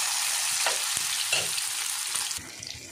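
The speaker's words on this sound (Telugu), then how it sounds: "ఇప్పుడు ఇది బాగా మంచిగా ఫ్రై చేసుకోవాలి" Fish egg mixture frying in hot oil, a steady loud sizzle with a few soft stirring scrapes and knocks throughout, no voices.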